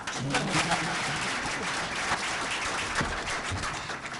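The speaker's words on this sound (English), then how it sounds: "Let me clap for myself." Steady clapping rolls on without a break at a talk on stop-and-frisk reform, someone speaker clapping for herself, with the sound fairly even and moderately loud.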